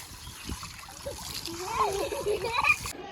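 Water splashes and spatters from a running hose, a steady wash of noise, while a voice rises over it near the end.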